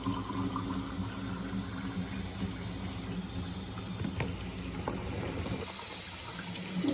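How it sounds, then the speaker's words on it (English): Hot water runs steadily into glass jars, a soft continuous splashing pour with faint clinks and shifts near the end, fairly quiet and with no talking. "I'm gonna go ahead and fill them up with hot water one more time"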